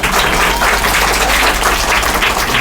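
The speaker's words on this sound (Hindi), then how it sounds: "ताली बजाओ जी" Schoolchildren and parents applaud the top scorer of an LKG class at a school results ceremony, a loud, steady wash of clapping that stays dense the whole time.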